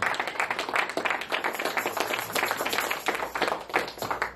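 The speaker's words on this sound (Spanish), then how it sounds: "Denle un aplauso a Cristo." A church congregation breaks into sustained, dense applause during a Spanish-language sermon, with rhythmic clapping filling the room at steady volume for several seconds and no talk over it.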